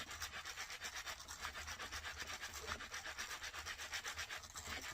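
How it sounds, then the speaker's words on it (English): Leather is buffed against a fresh hide to shape a hat, giving a faint, steady rhythmic rubbing with evenly spaced scraping strokes and no voices. "now as I'm buffing, you see that? I can slightly rotate it without buffing in the same spot."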